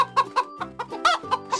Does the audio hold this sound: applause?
no